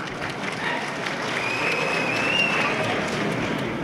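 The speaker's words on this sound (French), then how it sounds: "que je vous prie d'applaudir" Audience applause at a Malian political speech, a broad steady wash of many hands clapping at moderate level, swelling slightly toward the end.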